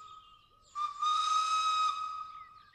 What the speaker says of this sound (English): That sounded just like a train's whistle.